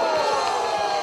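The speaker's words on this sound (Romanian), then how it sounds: "Aplauze pentru colegii de la Asociația 21 decembrie!" Crowd at a Romanian anniversary rally for the Golaniada protests applauds and cheers, a brief steady burst of clapping and crowd noise with faint voices mixed in.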